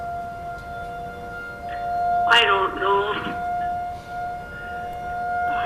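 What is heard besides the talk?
sirens being tested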